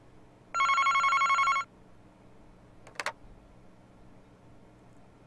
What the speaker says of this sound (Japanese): 恐ろしい事件の幕開けを告げる電話のベルが鳴り響いた